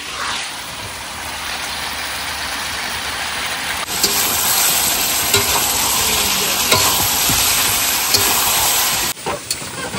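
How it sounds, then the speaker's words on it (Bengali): Meat being sautéed in a pan, a loud continuous sizzle with scraping and stirring clinks that grows fuller after a few seconds and drops briefly near the end. "আজকে মাংসটা ভালো মতন করে কষাবো"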